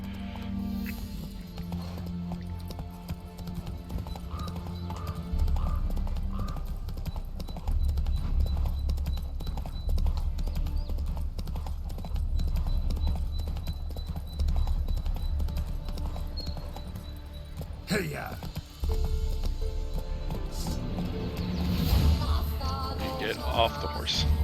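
Rhythmic horse hooves clip-clop steadily for a long stretch in the game The Witcher 3: Hearts of Stone, continuous, with occasional faint background effects.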